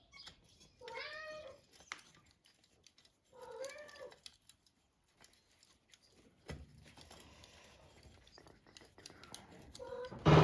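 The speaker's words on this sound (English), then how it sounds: "Watch out, cat." A house cat meows clearly several times in a workshop where a Kawasaki ZX6R exhaust is being fitted: two drawn-out meows early, then a shorter one later, with quiet handling noises, someone talking, and a sharp clunk at the end.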